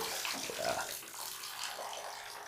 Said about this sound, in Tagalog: Oh, may bomba at pwede kang magbomba ng tubig.